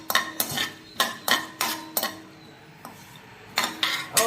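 A metal spoon stirs cashews and other dry fruits roasting in ghee in a kadhai over a medium flame for shevlechi kheer, making sharp, close scraping clinks in a quick rhythm, then a brief pause before the strokes resume.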